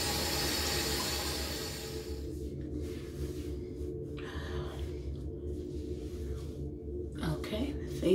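Tap water running into a bathroom sink while a face is rinsed clean of makeup, a steady rush that drops after a couple of seconds into splashing and gasping breaths near the basin.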